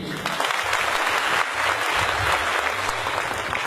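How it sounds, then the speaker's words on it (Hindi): Steady, dense audience applause at a Vestige business event for a speaker's mentor, a continuous full-room clapping with faint voices underneath. "तो एक शानदार ताली इनके लिए।"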